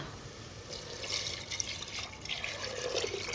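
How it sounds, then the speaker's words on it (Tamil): Measured water pours into a cooking pot for a rice and lentil dish, a close, continuous splashing and trickling stream that grows slightly fuller as the pot fills. "நம்ம தண்ணி அளந்து ஊற்றிட வேண்டியது தான்"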